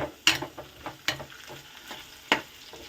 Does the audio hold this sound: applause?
no